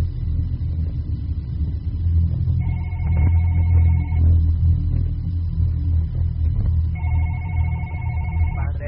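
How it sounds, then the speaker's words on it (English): A telephone rings in the One Late Night video game, two long, loud electronic ring bursts separated by a pause, over a low droning background hum. "Answer that phone."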